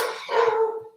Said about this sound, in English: And now my dog is going crazy